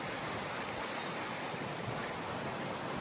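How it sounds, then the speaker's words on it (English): Steady broadband rush of the Upper Teign river flowing through forest on a fly fishing walk from Fingle Bridge, a continuous close water roar with no break and no voices. "And the river's right there."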